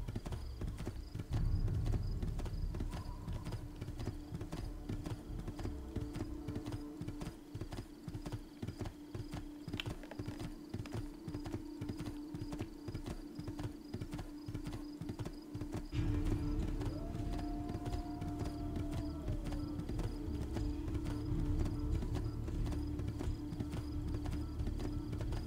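Steady hoofbeats of a galloping horse in Assassin's Creed II drum on continuously under faint ambient music, with the rhythm shifting slightly midway.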